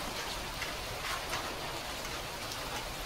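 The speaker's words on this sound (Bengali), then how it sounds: "এত পরিমাণে বৃষ্টি হচ্ছে" Heavy rain pouring down outdoors, a loud, dense, continuous roar of drops striking surfaces close by, unbroken and with no voices.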